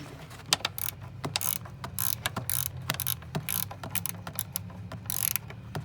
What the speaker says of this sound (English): So you'll definitely want a ratcheting wrench to get in this one, unless you take off your kick panel.